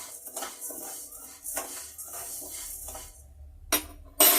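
Lentils being stirred as they dry-roast in a pan, a close series of rhythmic scraping and rattling strokes of a utensil against metal, with a couple of sharper knocks near the end and no talking.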